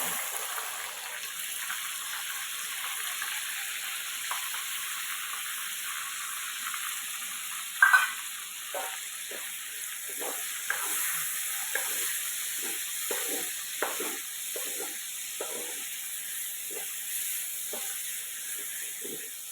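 Three finely chopped onions frying in oil with cardamom, cloves and cinnamon for doi chicken, a steady hiss of sizzling oil with a spoon stirring and scraping the pan in a loose rhythm later on.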